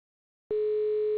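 After half a second of silence, a phone line on a call-in show gives a steady, unbroken dial tone, close and even, with no voices.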